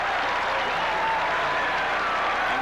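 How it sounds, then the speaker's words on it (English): A football stadium crowd at a 1986 Bears–Buccaneers game in Tampa Bay cheers and applauds in approval, a broad steady roar of many voices heard from a distance. "And the crowd shows its approval."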